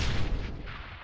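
An explosion in the physics sandbox game People Playground, playing at a heavily sped-up game speed: a dense, loud, rumbling boom with a thick low-end roar that sustains for about a second.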